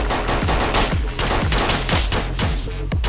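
Pistol shots ring out in Project Reality, a military shooter game: about eight loud, sharp reports fired in quick, fairly even succession, close up and over steady background noise.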